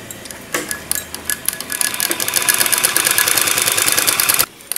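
A sewing machine stitches cross-piece cloth for a dhoti-style pyjama, running in a fast, steady mechanical whir and clatter that builds after a few short starts and then stops abruptly near the end.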